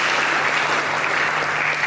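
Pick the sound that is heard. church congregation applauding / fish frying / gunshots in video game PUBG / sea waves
church congregation applauding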